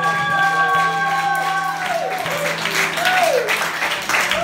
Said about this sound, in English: Can I have a little clap for my band?